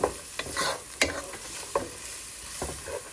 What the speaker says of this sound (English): So put them in and saute them.